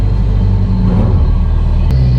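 4WD car bogged in soft sand, its engine held at a steady, loud, low rumbling throttle close by, with a slight shift in tone near the end.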